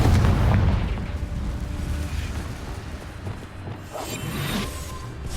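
A Confringo explosion spell cast in the game Hogwarts Legacy during a fight with a giant spider: a loud, rumbling blast that rolls on with crackling bursts and whooshes for several seconds.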